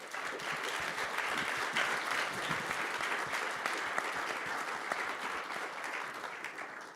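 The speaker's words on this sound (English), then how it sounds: "let me join me in giving a big round of applause to the 4 speakers" Audience applause for four speakers at an external statistics conference, steady dense clapping from a sizeable room, moderately distant and sustained throughout.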